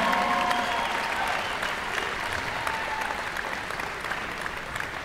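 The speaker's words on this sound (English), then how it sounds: "please give these players a round of applause for a great game they put on for you today" Sustained applause from a large crowd after a 2019 Can Am Holiday Volleyball Showcase match, Ryerson Rams vs Lewis Flyers, steady dense clapping filling the whole stretch without letting up.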